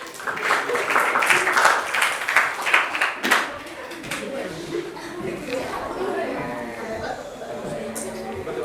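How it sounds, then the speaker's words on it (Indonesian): A classroom audience gives applause for a student group after a presentation, a burst of clapping lasting about three seconds before fading into murmured chatter and light laughter. "Tepuk tangan untuk kelompok 6"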